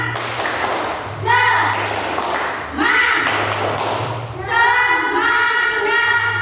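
A primary school class performs a rhythmic clapping routine, with muffled claps and thuds under loud group chanting by children's voices.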